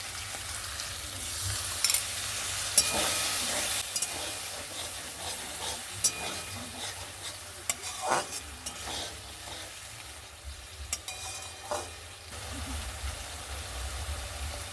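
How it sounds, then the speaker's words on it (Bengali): Spice paste with green chilli paste and a splash of water is stir-fried in a pan for potol chingri (pointed gourd with prawns). The sizzle is close and steady, broken by scattered spatula clicks and scrapes over a low hum. "এবারে দেবো একটু কাঁচা লঙ্কা বাটা মশলাটা কষানোর জন্য একটু জল দেবো"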